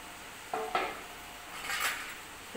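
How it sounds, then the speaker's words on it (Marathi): A spoon scraping and clinking against a pan while spreading masala over eggs, a few short metallic touches and a longer smear, close and quiet with no voices. "चमच्याने असं आपल्याला त्यावर मसाला लावायचा आहे"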